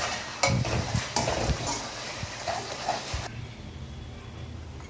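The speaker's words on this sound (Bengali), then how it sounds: "আপনারা গ্যাসের ফ্লেম লো করে কাজু বাদামটা দিয়ে মশলাটাকে ভালো করে কষিয়ে নেবেন" Masala with cashew nuts fries in a pan over a low flame while a utensil stirs it, giving soft sizzling and scraping with a few sharper clinks of metal against the pan before the sound drops away.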